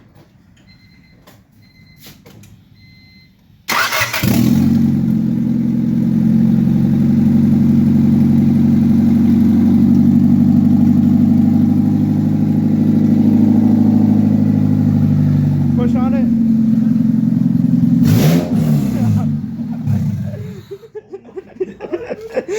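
A 2000 Honda Civic engine with a newly installed header bursts to life with a sudden, loud roar and rumbles heavily for several seconds before cutting off, followed by a brief spoken remark nearby.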